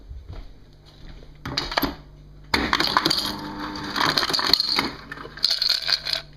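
Ice cubes are dropped into a drinking glass, clinking and crackling in a few clattering bursts close up, with no talking.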